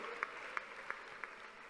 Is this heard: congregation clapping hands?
yes